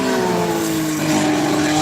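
A race car engine drones at low revs, a loud buzzing tone that shifts slightly in pitch as it passes, with no voices.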